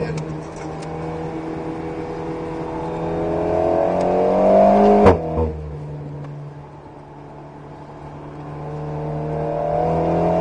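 Alpine A110S sports car drifting at Nogaro race track, its engine revving hard and rising in pitch before a sharp thump and a drop to a lower steady drone, heard from inside the car.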